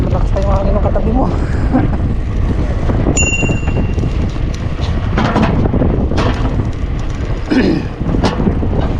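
Strong wind at Punggol Dam in Singapore buffets loudly and constantly, a heavy low rumble and roar that swamps everything, with occasional voices faintly breaking through.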